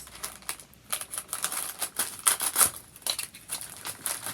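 Crinkly plastic rustling and crackling in quick irregular bursts, close by, as a thin plastic tablecloth is pulled and unfolded, with no voices.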